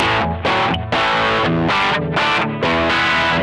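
Rat-like fat distortion from a Boss OD200 pedal on an electric guitar, played as loud, saturated rhythmic chords in short repeated bursts with quick stops, heard alone with no talking.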